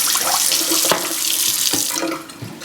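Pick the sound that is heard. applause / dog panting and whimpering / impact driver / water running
water running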